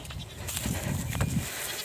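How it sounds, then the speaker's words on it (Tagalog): Young goats bleat in short bursts while being watered at a farm, with faint background noise and a brief low voice in the mix. "Painumin natin yung ating mga kambing kasi wala nang gaanong damo dito."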